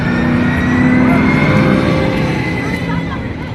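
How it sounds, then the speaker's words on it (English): Ride cars race past in Cars Land at Disney California Adventure, a loud sustained engine roar and rush that swells then slowly fades, with crowd chatter and voices mixed in. "I hear the cars coming."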